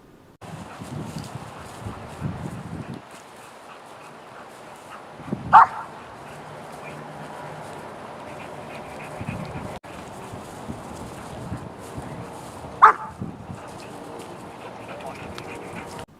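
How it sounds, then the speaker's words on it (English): A dog gives two sharp barks, several seconds apart, over a steady background hum. "now I get one bark"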